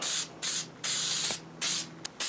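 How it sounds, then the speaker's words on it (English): 3M Spray 77 adhesive hisses from an aerosol can onto the inside of faux leather in four close, loud bursts of varying length, separated by short pauses, ending with a quick final puff. "Spray 77 is going to be applied pretty liberally to the inside of this faux leather."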